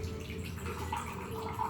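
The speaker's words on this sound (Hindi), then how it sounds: "और अब डालेंगे हम इसमें पानी।" Water runs from a water cooler into a pressure cooker holding rice in a home kitchen, a soft, steady trickling stream heard close and fairly quiet, with no one talking.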